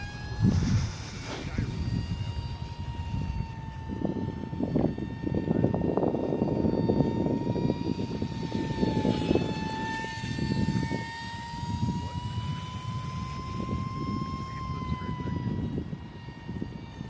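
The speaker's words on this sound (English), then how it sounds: "The little UMX Mig is a bit of a challenge to record. It's small and quick." A small E-flite UMX MiG 15 model jet with an electric ducted fan whines steadily overhead in a sustained high-pitched tone, moderately loud and continuous throughout, with outdoor wind rumble beneath.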